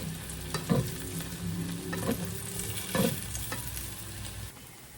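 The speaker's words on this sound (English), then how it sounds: "So now we're gonna turn them because I'm pretty sure they are toasting." Vegetarian meatballs fry in a pan with a steady sizzle as they are turned over, producing three distinct scraping, clattering bursts spaced about a second apart.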